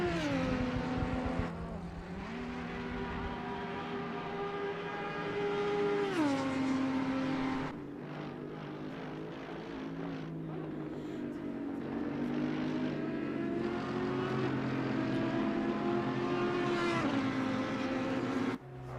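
The 999 Audi race car's engine drones continuously through a racing game at Mount Panorama, its pitch rising and falling with repeated gear shifts and throttle changes, moderately loud and close.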